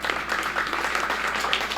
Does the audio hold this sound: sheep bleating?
no